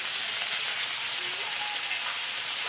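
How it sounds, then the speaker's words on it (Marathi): Fish frying in a pan, an even, close, bright crackling sizzle like light rain, steady and unbroken throughout. "आता हे फ्राय होते."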